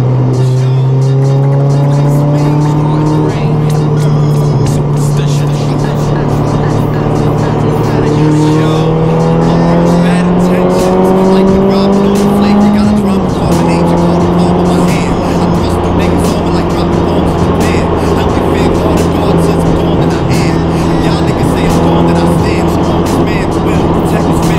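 Miata NA or Subaru BRZ driven hard on wet roads, a loud continuous engine drone rising and falling with revs and gear changes, with tire and spray noise throughout and a voice over it.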